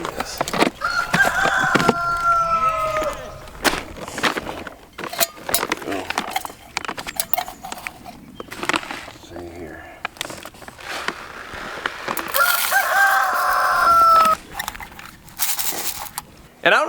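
A rooster perched on a post in a garden crows several times, loud and close, with clucking between crows and a person talking over parts of it.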